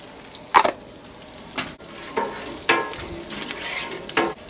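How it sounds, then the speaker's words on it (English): Yellow corn tortillas fry in oil on a Blackstone griddle, a low steady sizzle broken by several sharp scraping spatula strokes at irregular intervals, close and fairly loud. "I'm going to cook them on one side and then flip them"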